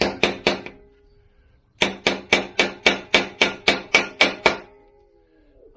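Sharp metallic hammer blows on a punch going through rubber during dash panel repair work: three quick strikes, a pause, then about ten evenly spaced ringing hits, loud and close.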